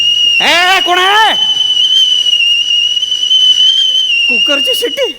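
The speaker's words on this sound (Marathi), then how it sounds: "कुकरची शिट्टी." A pressure cooker whistle keeps up a steady, loud, shrill tone for about five seconds, with brief voiced wails rising over it near the start and the end.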